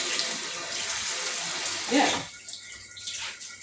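Running water rinsing rice in a pot, steady broadband splashing for about two seconds, then easing to softer trickles and drips; someone briefly speaks.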